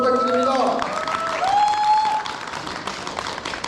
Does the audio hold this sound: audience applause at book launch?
yes